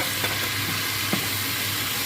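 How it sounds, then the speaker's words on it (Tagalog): Small chopped chicken pieces sautéing in a pan, a steady broadband sizzle and hiss with a couple of faint clinks from stirring, close and continuous with no talk. "So, igisa muna natin siya."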